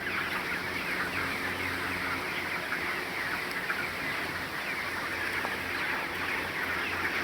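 Broiler chickens in a poultry shed during hot weather, a dense continuous chorus of clucking and murmuring from many birds, steady and fairly close.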